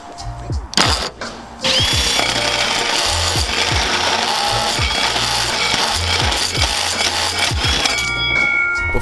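A 3.5-inch hole saw drills a large hole in a 2019 Toyota Tacoma body for a snorkel install, a steady loud grinding whine that runs nearly unbroken after a short start, with a few brief knocks.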